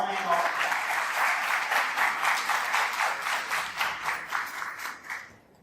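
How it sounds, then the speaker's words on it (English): Sustained audience applause at an educational conference in Pune, many hands clapping steadily at full volume for several seconds before tapering off at the end. "Please give full round of applause to welcome all our dignitaries"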